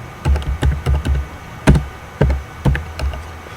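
Computer keyboard keys clicked in short bursts of quick strokes with brief pauses between, fairly close and clear, while HTML code is entered, with no talking.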